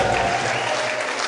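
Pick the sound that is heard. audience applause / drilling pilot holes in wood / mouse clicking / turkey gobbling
audience applause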